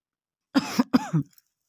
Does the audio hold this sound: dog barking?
no